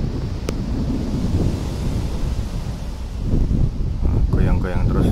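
Wind buffets the microphone and calm Indian Ocean swells wash past a boat, a loud, constant roar rising slightly toward the end, with a voice briefly heard over it.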